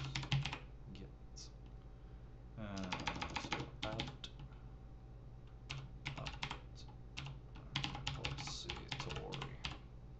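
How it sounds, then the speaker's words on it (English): Fast typing of a terminal command on a computer keyboard during a Linux setup, dense bursts of crisp key clicks with short pauses, close and clear over a low background hum. "So go ahead and type sudo"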